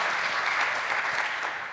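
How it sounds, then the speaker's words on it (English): A brief burst of dense, even applause from a plenary audience at a big data forum award ceremony in Valencia, full and sustained before easing slightly at the end. "So big applause for them."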